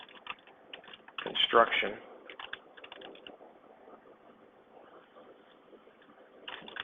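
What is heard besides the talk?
typing on a computer keyboard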